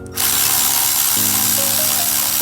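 A power tool whirs steadily at close range while loosening two bolts on a Honda Grom clutch, a loud continuous buzzing whine that shifts pitch partway through, with no talking.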